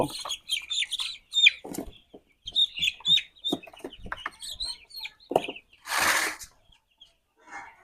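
Seven-day-old broiler chicks peep and chirp in quick, high bursts close by while being handled onto a weighing scale, with brief rustling and a short burst of flapping.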